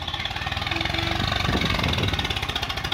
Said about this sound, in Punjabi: ਟਰਾਈਆਂ ਮਾਰਦਾ ਗੱਭਰੂ ਟਰੈਕਟਰ ਨੂੰ ਤੰਗ ਕਰ ਕਰ ਦੇਖਦਾ ਪੂਰਾ